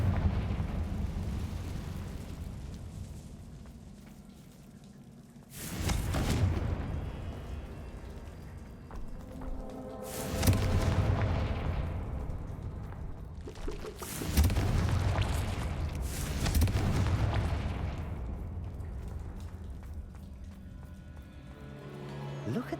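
Three Confringo fire spells in Hogwarts Legacy go off at steady intervals, each a loud, booming burst that rolls and decays into rumbling debris over a few seconds.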